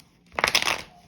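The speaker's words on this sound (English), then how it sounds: "We'll get right into your spread right after this shuffle." Tarot cards shuffled by hand in a short riffling burst of papery flutters, fairly close and alone after a quiet start.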